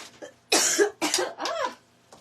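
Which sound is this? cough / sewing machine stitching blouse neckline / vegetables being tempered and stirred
cough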